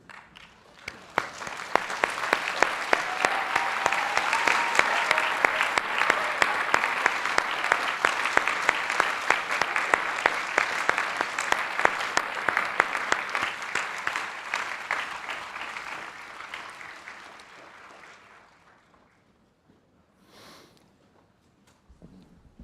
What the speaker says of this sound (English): I would ask all PhD candidates to rise and applaud those friends and family members who have